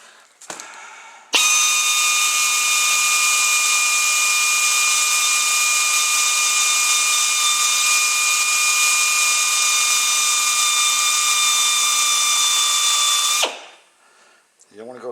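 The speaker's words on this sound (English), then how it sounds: "this air drill is going to make a little noise" A pneumatic air drill with a 1/8 inch bit drills into metal on a 2009 Pontiac G6 seat, whining at a steady high pitch for about twelve seconds, loud and close, starting abruptly and cutting off near the end.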